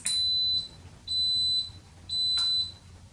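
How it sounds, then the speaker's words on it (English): An electric pressure cooker beeps three times, each a sustained high electronic tone about half a second long separated by short gaps, clear and close in a quiet kitchen. "we'll hear it beep 3 times to let us know it's understood"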